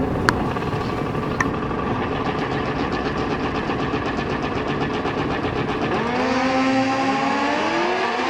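A 2007 Kawasaki ZX14 drag racing motorcycle launches down the strip at a bracket drag race, a loud sustained engine howl that climbs sharply in pitch through the gears over track ambience.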